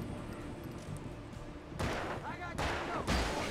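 Gunfire from the video game Alan Wake comes in bursts of loud, sharp shots over a continuous roar of game noise, the two densest volleys starting about halfway through and near the end.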